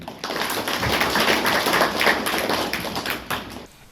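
Applause at a ceremony: a dense, steady burst of many hands clapping together, loud and close, fading out after a few seconds.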